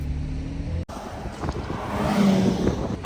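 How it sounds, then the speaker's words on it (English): A black Ferrari LaFerrari Aperta passes during Monterey Car Week, its engine building from a low rumble to a louder, swelling roar as it approaches. "Black LaFerrari Aperta with Zach Braille in the back."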